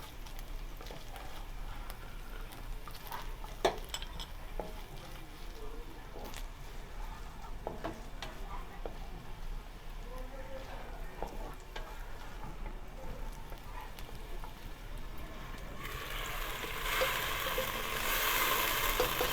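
Soft, steady sizzle of onion whites frying in a pan for chicken fried rice, with scattered stirring clicks and a louder hiss near the end, fairly quiet and close.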